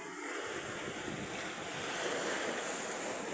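Waves and surf wash across a wide stretch of open sea, a steady broad roar with gusty wind buffeting the microphone and a slight swell in loudness toward the end.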